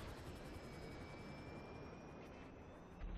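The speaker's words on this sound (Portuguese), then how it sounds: "O helicóptero na cabeça, né?" Helicopter in the video game GTA 5, a steady, even rotor and engine drone that holds throughout with a faint rising whine, and a brief louder bump at the very end.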